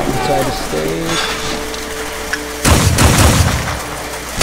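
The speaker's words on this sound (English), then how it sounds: "The pirates are firing at us." Pirate cannon fire in the mobile game Stormshot2: Boom Blast erupts as a loud booming burst with crackling, sizzling debris midway, following a stretch of tonal game music and effects.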